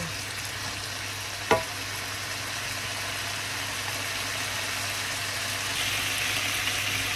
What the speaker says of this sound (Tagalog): halo natin yung gulay muna, saka ang udong